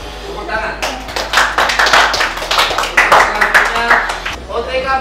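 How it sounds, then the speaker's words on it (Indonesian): A small group claps by hand at a school farewell gathering, uneven bursts of individual claps close by, picking up and then trailing off, with voices talking over the clapping. "Tepuk tangan"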